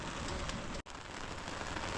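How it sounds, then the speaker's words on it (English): Cold, wet rain falls steadily on a campsite in Grand Teton, a constant dense hiss of drops on surfaces, briefly cut off for an instant before resuming. "It is a cold, wet rain."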